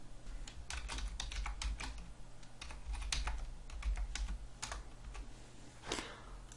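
Fingers type a username on a computer keyboard, a quick, uneven run of close, crisp key clicks with short pauses between bursts.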